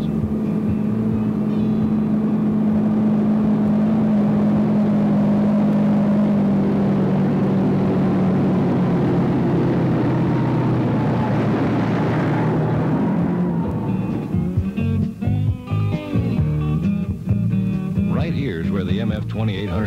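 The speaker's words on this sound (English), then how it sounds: "This 640 cubic inch turbocharged Perkins diesel was designed and built especially for this tractor." A turbocharged 640 cubic inch Perkins diesel in a 1976 Massey Ferguson 2800 tractor drones loudly and steadily, its pitch shifting gradually before the sound breaks into rougher, choppier mechanical noise near the end.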